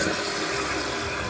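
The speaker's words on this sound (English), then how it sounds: "as soon as the fill valve kicks on" A Kohler toilet's fill valve refills the tank, a close, loud, steady rush of water hissing without pause.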